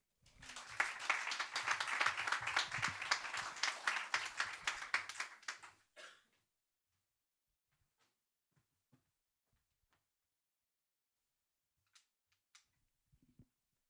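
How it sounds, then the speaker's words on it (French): Audience applause at a French testimony evening, a dense burst of clapping that builds fast, holds strongly for about six seconds, then stops abruptly, leaving near silence with a few faint taps. "Merci d'applaudir très fort, Lisa."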